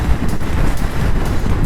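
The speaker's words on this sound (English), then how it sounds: "Oh, she's blustery, all right." A strong gust of wind in Kakanui, Central Otago buffets the microphone with loud, rough roaring that swells and dips over a couple of seconds, close and unbroken, with no voices.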